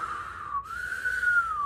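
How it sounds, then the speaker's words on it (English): A high, wavering whistle that rises and falls in pitch, steady and fairly loud throughout with a brief dip partway. "It was whistling now."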